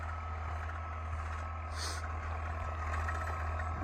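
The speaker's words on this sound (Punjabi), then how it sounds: "ਵਧੀਆ ਆਰਾਮ ਨਾਲ ਖਿੱਚੀ ਫਿਰਦਾ ਟਰੈਕਟਰ ਕੋਈ ਲੋਡ ਨਹੀਂ ਲੈ ਰਿਹਾ" A tractor drawing a 13-tine cultivator through a field in fourth low gear, its engine droning steadily and unstrained at close range, a continuous low rumble with no pauses.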